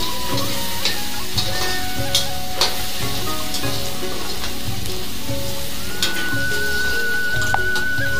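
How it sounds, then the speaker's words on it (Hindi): Cumin seeds, chili and onion frying in a pan, a loud steady sizzle with periodic stirring clinks and scrapes of a spoon against metal, close and continuous. "अब इसको चलाएंगे तब तक पक ना जाए।"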